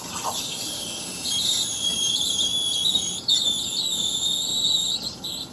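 A Breville Barista Express steam wand spins milk in a jug, giving a steady close hiss topped by a high whistling squeal that wavers in pitch, with no talk.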